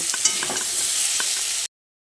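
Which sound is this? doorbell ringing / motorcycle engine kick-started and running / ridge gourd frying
ridge gourd frying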